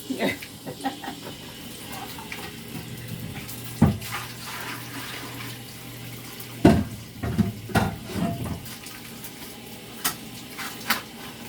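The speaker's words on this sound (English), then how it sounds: "I do run a lot of water, so forgive me," Water runs steadily from a tap in a home kitchen while someone prepares catfish nuggets, with intermittent clunks and splashes of dishes being handled.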